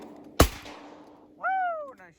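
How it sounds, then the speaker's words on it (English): A single loud, sharp shotgun blast cracks out during a late-season goose hunt, followed by fading echo and then a goose's honking call a second later. "Nice shot, Cole."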